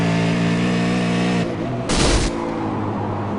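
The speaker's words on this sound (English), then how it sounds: "We'll try and listen to the revs." V8 race car engines sound on board in a sim racing video game at Lime Rock, a loud sustained engine drone broken by a brief drop and a short burst of noise.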